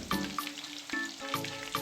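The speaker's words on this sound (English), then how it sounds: "Fry the rissóis until they are golden brown on both sides" Hot oil sizzles and crackles softly at close range as prawn rissóis deep-fry, with a few small pops over a short, quiet stretch.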